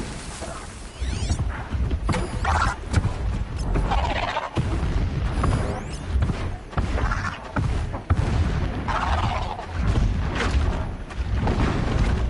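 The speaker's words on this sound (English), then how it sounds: "Explosions in the distance." Booming explosions and artillery-like blasts in a PS4 video game, a steady stream of muffled thuds and rumbles that feel far off, with sharper cracks scattered through and no pauses.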